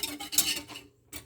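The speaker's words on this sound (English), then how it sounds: "Keep stirring until there will be no more lumps" A spoon scrapes and clinks in quick strokes around a pan of gravy made with powdered beef broth, loud and close. The stirring stops briefly and then resumes.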